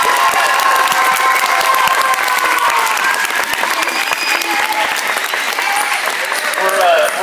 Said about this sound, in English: let's give them a much deserved round of applause